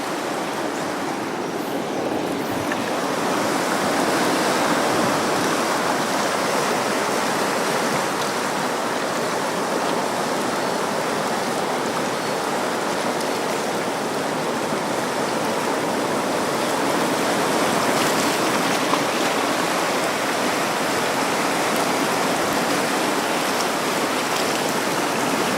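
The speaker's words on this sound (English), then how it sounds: "See the waves crashing down there into the wall." Ocean waves crashing into a wall along the Hawaiian coast at Naalehu, a loud, continuous roaring wash of surf that holds steady throughout, with no voices.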